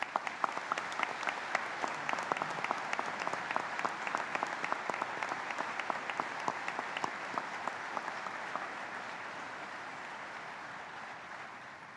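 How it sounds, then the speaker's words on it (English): Audience at Arlington Cemetery applauds veterans' national leadership with steady, sustained clapping from a large crowd, loud at first and slowly thinning toward the end. "please join me in recognizing our Veterans National Leadership with your applause"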